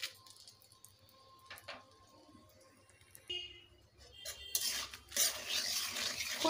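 Whole spices frying in hot oil for tempering: bay leaves, dried red chillies, whole garam masala and cumin seeds. The sizzle is soft and scattered at first, then swells into a loud, bright crackle near the end.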